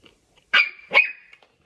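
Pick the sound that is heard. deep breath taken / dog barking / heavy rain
dog barking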